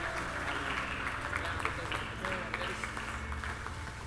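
A church congregation claps together during a youth service, a moderate, fairly even patter of many hands under voices talking and calling out over it.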